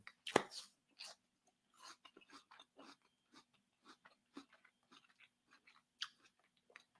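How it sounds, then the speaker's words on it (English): A Cosmic Crisp apple is bitten with one loud, close crunch, followed by a steady stretch of quieter wet chewing and crunching, with no talking. "this shit is so sweet and crispy"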